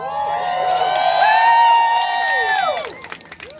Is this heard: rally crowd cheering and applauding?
yes